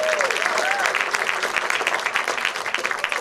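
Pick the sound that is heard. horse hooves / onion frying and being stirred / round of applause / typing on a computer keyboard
round of applause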